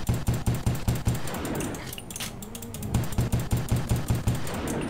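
Rapid bursts of gunfire aimed at zombies in the Roblox survival game Resurrection, a fast regular stream of sharp shots that breaks off for about a second mid-way, then resumes at the same rhythm.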